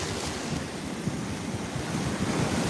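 Beach surf and wind: continuous ocean waves rushing and churning close by, with gusty wind noise buffeting the microphone and low rolling rumbles throughout, no voices.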